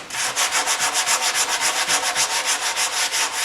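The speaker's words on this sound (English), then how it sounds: "So you come back and you sand it down." Wood edge of a home-built subwoofer enclosure being sanded by hand with quick, even back-and-forth strokes, roughly six per second, loud and close with a steady rhythmic scratchy hiss and no voices.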